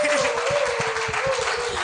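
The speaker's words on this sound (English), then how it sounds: "Please give her another round of applause." Audience applause for someone speaking on a film festival panel, a steady wash of clapping under a sustained tone and low rumble, brief and moderately loud.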